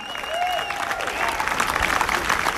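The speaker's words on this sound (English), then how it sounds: "Give a round of applause to my man." A crowd applauds a performer at an outdoor Juneteenth event, a steady wash of clapping that holds for a few seconds, with faint tonal whistles or feedback drifting above it early on.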